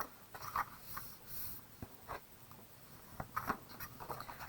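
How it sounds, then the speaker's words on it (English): Gift bag paper folds creased with a bone folder: faint, soft scraping strokes, a few short separate passes over quiet room tone. "So I always use my bone folder on these folds to just make sure."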